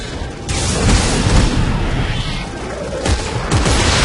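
Rapid gunfire in a co-op Dead Space 3 fight, dense overlapping bursts and booming impacts filling the whole stretch, loud and continuous with a few sharper surges, with faint voices buried underneath.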